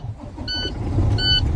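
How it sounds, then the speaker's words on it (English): A truck engine starts with the clutch held in. A low rumble rises over a second and a half, with two short electronic beeps close by and no talking. "We're gonna turn the engine on."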